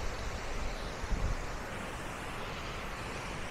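The Wachirathan waterfall at Doi Inthanon roars as a steady, broad rush of water, dense and continuous with a slight wind-buffeted edge and no voices.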